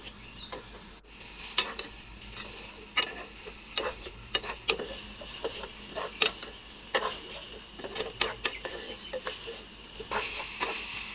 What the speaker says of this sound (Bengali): তারপর হচ্ছে আমি আলু ভাজিটা করে নিব।